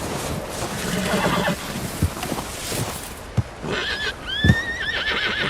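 White Arabian horse in Red Dead Redemption 2 giving a loud, close whinny near the end, preceded by a few sharp hoof clops and snorts over a windy outdoor background.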